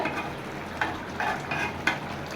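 Curry of small hilsa fish with taro simmering and sizzling in a pan, a steady soft bubbling hiss with a few brief clinks of stirring, no talking.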